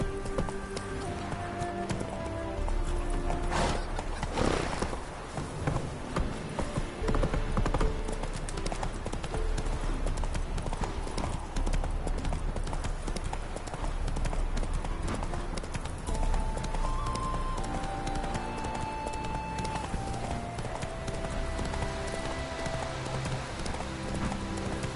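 Roach, the horse in the video game The Witcher 3, galloping with rapid, continuous hoofbeats over a dense, loud game soundscape that includes an occasional whinny.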